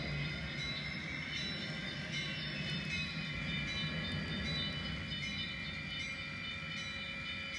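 A model railroad train runs quickly on a layout, giving a steady, continuous rolling hum and whir with faint high squeals, even and close throughout with no pauses.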